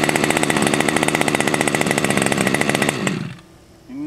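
A Bergen gas-powered RC helicopter engine runs loud and close after a pull start, with a steady rapid buzzing for about three seconds, then it cuts off abruptly and only faint noise follows.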